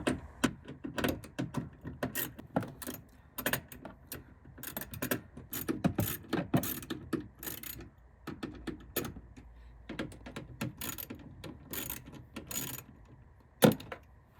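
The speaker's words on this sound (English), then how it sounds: "Now I'm going to fully tighten the 4 bolts." Four bolts on a 2007-2014 Ford F-150 OE-style powered heated side mirror are tightened by hand tool, with a steady run of close, dry metallic clicks and ratcheting taps and a sharper knock near the end.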